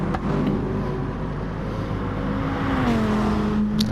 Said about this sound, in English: I do love the sound of that Supra.